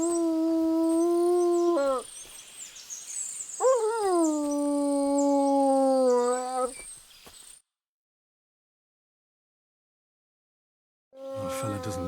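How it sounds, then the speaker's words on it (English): A dog howls long and mournfully in a village in Kingdom Come: Deliverance II, two drawn-out wavering howls close by, then several seconds of silence before another howl begins. "No wonder the dog's howling like mad."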